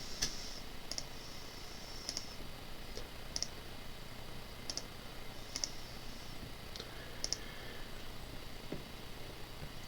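Mouse clicks on a web CAPTCHA sound as sparse, sharp, close taps at irregular intervals over a quiet room background.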